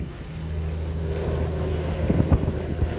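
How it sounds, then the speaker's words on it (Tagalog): A fast craft passenger boat docks at the Olango Island port, its engine rumbling low and steady under wind buffeting the microphone, with a few thuds and splashes near the end. "Dadaong na po tayo dito sa port ng Olango Island."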